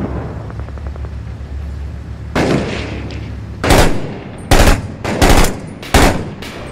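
Gunshots aimed at a rooftop sniper in Six Days in Fallujah: about five separate sharp cracks with gaps between them, rising over a low background rumble.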